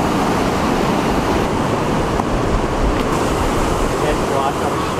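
Massive ocean surf crashing onto rocks along the coast, a loud, continuous wash of breaking waves with heavy wind rumble across the microphone throughout.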